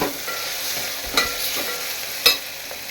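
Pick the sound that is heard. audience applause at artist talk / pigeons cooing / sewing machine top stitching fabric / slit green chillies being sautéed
slit green chillies being sautéed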